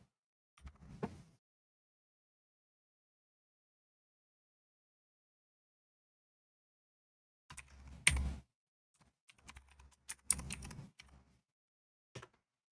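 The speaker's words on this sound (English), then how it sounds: "You can probably hear the clickety clacks." Brief bursts of computer keyboard typing are heard, faint and close, with long silent gaps between short clusters of clicks.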